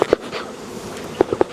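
Honeybees buzz in an opened hive during a brood inspection, a low hum broken by several short, sharp bursts, two near the start and four close together near the end.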